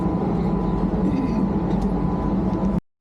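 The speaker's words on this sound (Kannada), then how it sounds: "ಟ್ರೈನ್ ಉಂಟಲ್ಲ ನೂರ ಏಳು ಕಿಲೋಮೀಟರ್ ಪರ್ ಅವರ್ ಸ್ಪೀಡಲ್ಲಿ ಹೋಗ್ತಾ ಉಂಟಂತೆ" Steady low rumble of a Vande Bharat high-speed train at about 107 km/h, heard from inside, continuous and moderately loud, cutting out abruptly near the end.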